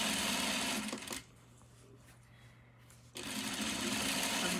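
A sewing machine stitches fabric for a skirt, a loud steady whirring run that stops for about two seconds of near quiet before starting up again at full speed. No one speaks.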